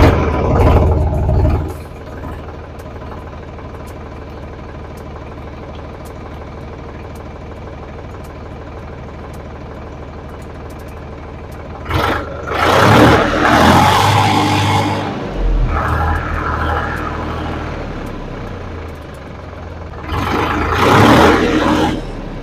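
A second-hand Solis tractor engine running, a steady low diesel drone that bursts into louder revving and clattering surges in two spells, heard close and alone.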